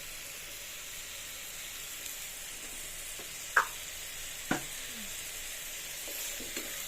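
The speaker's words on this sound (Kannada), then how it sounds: "ಸೊ ಇದು ಲೈಟಾಗಿ ಫ್ರೈ ಆಗಲಿ" Gravy frying lightly in oil in a pan, a steady soft sizzle throughout with a few sharp clicks of a utensil against the pan.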